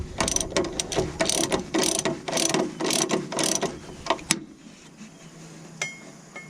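A ratchet wrench clicks in rapid bursts while tightening sway bar bushing bolts on a 2000 Ford F150, loud and close for about four seconds before stopping, followed by quieter metallic handling sounds.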